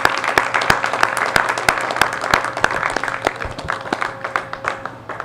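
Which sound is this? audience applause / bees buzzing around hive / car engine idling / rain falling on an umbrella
audience applause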